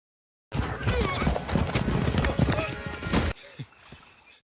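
Hooves of the horse-like mount in the film Avatar drum in a rapid, loud gallop for about three seconds, then cut off abruptly, leaving a brief faint whinny-like call and quiet ambience.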